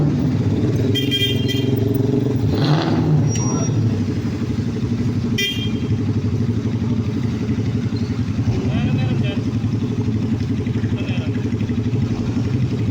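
Vehicles pull away in Angeles, Pampanga as visitors head home, engines droning and a short horn toot sounding amid busy background noise and voices talking nearby.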